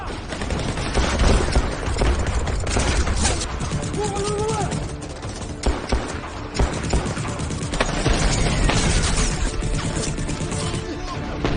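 Gunfire rattles through a movie shootout scene, with dense, continuous volleys of shots and crashes at high volume and voices briefly heard among them.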